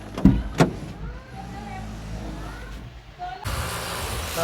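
Electric power windows of a car sliding down with a steady motor whine, following two sharp knocks near the start and ending in a louder rush of outside road and air noise.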